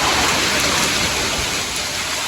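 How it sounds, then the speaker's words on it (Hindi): Heavy rain pours steadily outside a 12th-floor home, a dense, loud, continuous hiss with no pauses and no voices over it. "बारिश हो रही है बहुत तेज"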